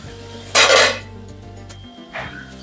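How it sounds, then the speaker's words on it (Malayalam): Stirring prawn biryani with carrot in a pot, with two bursts of scraping and clattering against the pot, a longer one early and a shorter one near the end, over a steady low background hum. "നന്നായിട്ട് ഇളക്കണുണ്ട്"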